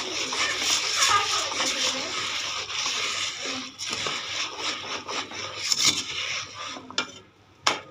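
Puffed rice is mixed by hand with date palm jaggery, giving a close rustling, crunchy rubbing that comes in uneven strokes, with a few sharper knocks near the end.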